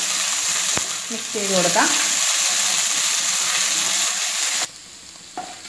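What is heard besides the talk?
ginger garlic paste frying in hot oil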